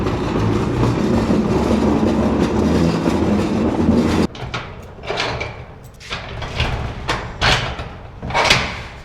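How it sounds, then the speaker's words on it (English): A loaded cart at a truck camper rumbles and clatters loudly as it rolls, then continues with sharper intermittent rattles and knocks. "This cart is so loud."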